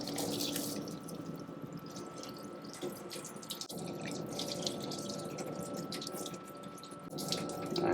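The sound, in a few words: coolant flowing onto 410 stainless steel during machining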